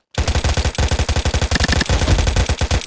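Rapid automatic gunfire in the World War II mobile game World War Legion, loud and close, a continuous rattling burst of evenly spaced shots with no talking.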